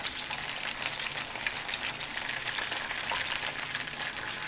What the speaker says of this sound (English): Now I'm going to go ahead and let that fry a little bit